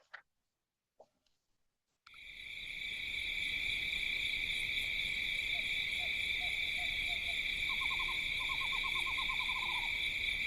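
Eastern screech owl gives a soft wavering trill at night in West Texas, several faint quavering runs at mid distance over a loud steady chorus of crickets and insects.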